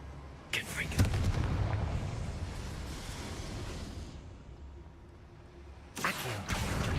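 A Confringo fire spell explodes in the video game Hogwarts Legacy. Two short booming blasts come a few seconds apart over a continuous rumbling game backdrop.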